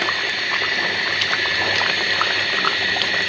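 Chicken roast simmering in milk in a pot, a steady close bubbling and fizzing with small pops scattered throughout, continuous and fairly loud with no talk.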